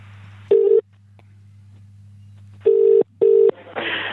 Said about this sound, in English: Okay, here we're ringing.